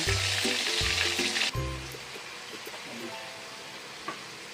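Chicken fries in hot oil with a bright, hissing sizzle that is loudest at first and then settles lower. A few clinks and knocks sound nearby, and no one speaks.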